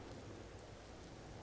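Rain pours steadily in the Empyrion Galactic Survival game, a faint, even wash of falling water with no other sounds.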